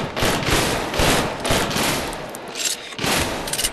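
Bursts of automatic gunfire rain down from above during a TV series battle, with loud rapid volleys coming in several waves separated by short lulls, and no voices over them.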